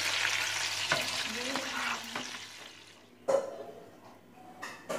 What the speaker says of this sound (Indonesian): mantap goreng burung ala masak, mau makan